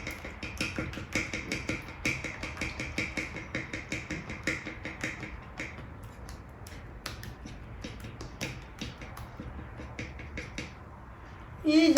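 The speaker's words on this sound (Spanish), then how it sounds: "Voy a empezar a batir el huevo." A fork beats eggs in a bowl for fresh pasta dough, giving rapid, steady clicking taps against the side that continue throughout and slightly soften toward the end.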